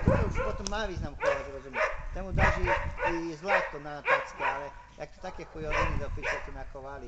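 A six-month-old Slovak hound barks and yips in short bursts close by during a boar hunt outing, with someone talking steadily over and between the calls.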